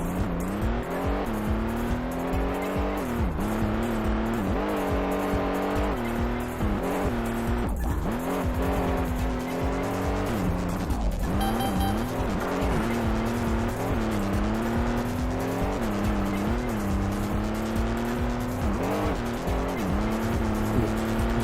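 A car in a racing video game revs and skids through a handbrake turn, engine tone rising and falling repeatedly with drawn-out tire squeals over a continuous, fairly loud game soundtrack, no talk.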